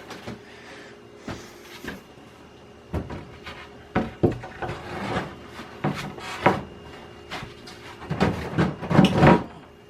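A wooden shelf is shoved down into a tight fit in a storage unit, giving a series of sharp wooden knocks, thumps and scraping rubs, close by and growing busier and louder toward the end.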